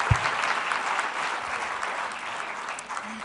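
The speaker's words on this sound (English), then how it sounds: "give those New Zealand teachers a round of applause" Audience applause for New Zealand teachers at an education talk, a steady wash of clapping from a crowd that holds at an even level throughout.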